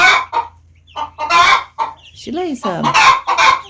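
An Americana hen clucking loudly and insistently up close in short repeated bursts, with one rising squawk partway through.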